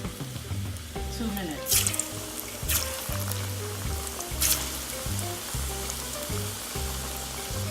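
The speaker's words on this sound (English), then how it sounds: "Just be careful of the cooking oil. We're gonna fry it for" Peeled yellow plantain frying in cooking oil, with a steady sizzle running beneath a man's speech and some background music, plus a few brief bright crackles.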